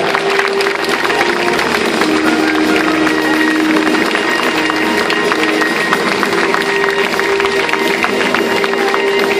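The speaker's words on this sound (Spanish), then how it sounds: "El aplauso, señoras y señores, para los participantes de Voces de Galdar" Audience applause for the Voces de Gáldar participants in the Plaza de Santiago in Gáldar, a loud, dense crowd of clapping and cheering sustained throughout at close range.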